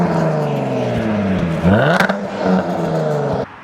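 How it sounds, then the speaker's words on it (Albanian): A Jaguar F-Type S with a V6 engine revs in a loud, close burst that rises and swells toward the middle before dropping back, with a steady engine drone underneath throughout. "Është ndër V6-at me zhurmë më të mirë që kam gjuar herë, ndër më të mirat në botë"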